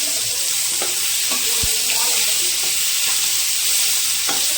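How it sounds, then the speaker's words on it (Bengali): Chopped raw onions frying in a pan with whole spices, a close, continuous loud sizzle with a few scraping stirs and light knocks, no talking. "পেঁয়াজগুলো ভাজা ভাজা করে নেব।"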